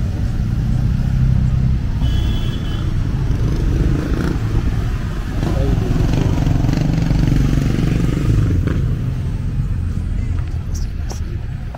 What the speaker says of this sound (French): Là, c'est le grosse moto là.